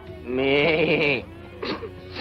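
A goat sound effect gives one loud, wavering bleat, close and clear, followed by a brief second shorter cry.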